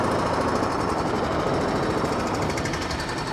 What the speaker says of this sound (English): I think I hear a jackhammer